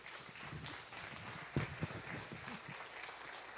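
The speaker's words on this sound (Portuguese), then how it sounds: "aplaude Ele por isso" Soft, steady clapping from a church congregation during a sermon, faint and somewhat distant, with a couple of louder thumps in the middle.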